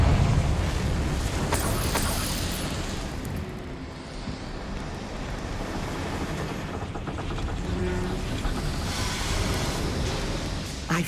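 A fiery Confringo spell blast in Hogwarts Legacy bursts out as a loud, roaring whoosh that rumbles and churns for several seconds before easing, with no speech.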